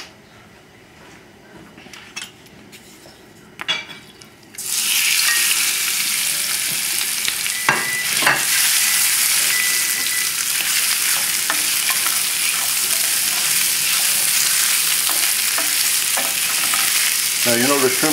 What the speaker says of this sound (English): you'll see the exact amount of time it takes to cook the size 21-25 shrimps on a high flame